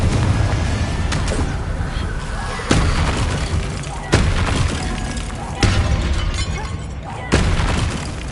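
Repeated Confringo blasting spells in Hogwarts Legacy, five sharp booming bursts at roughly one-and-a-half-second intervals over continuous loud combat noise, with voices heard among them.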